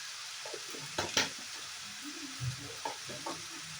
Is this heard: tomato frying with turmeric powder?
yes